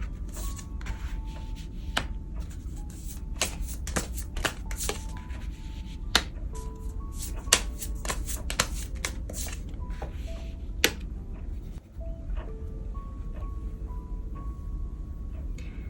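Tarot cards being shuffled during a reading, a dense run of soft papery riffles and slaps with sharp snapping clicks scattered throughout, close and steady, with faint tonal music beneath and no talking.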